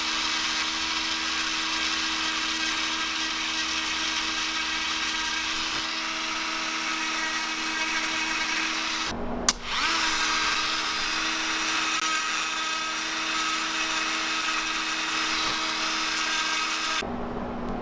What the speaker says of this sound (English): I mortise a slot into the bait and install a tab that's attached to a lip